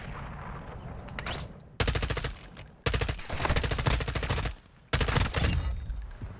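Rapid bursts of automatic gunfire in Call of Duty DMZ, several loud close volleys separated by short gaps, no talking.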